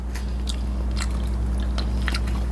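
Close crunchy bites and chewing of a crisp yellow mango eaten with a meal, with repeated sharp crunches and wet mastication, no talking.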